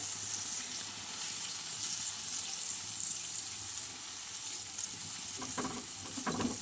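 Fish and water added to a simmering eggplant curry in a pot, a steady soft bubbling sizzle with light watery splashes and a few clinks near the end.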